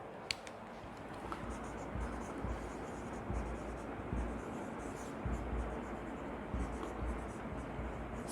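Marker or chalk writing on a board during a lesson, faint scratchy strokes repeating in short irregular bursts over a low steady room hiss.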